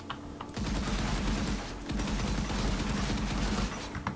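Sustained rapid machine-gun fire from a first-person shooter game weapon with bullet casings enabled, a dense continuous rattle of shots lasting several seconds after a brief pause, no talking.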